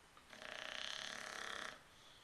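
A boxer dog snoring indoors at night, one long, rough, rattling snore lasting over a second, loud and close, standing out against a quiet room.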